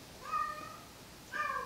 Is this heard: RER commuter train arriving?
no